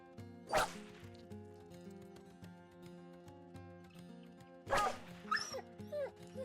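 A dog yelps twice in the turn-based mercenary game Battle Brothers, sharp pained cries spaced several seconds apart over a quiet musical drone, the second followed by a few short whimpers.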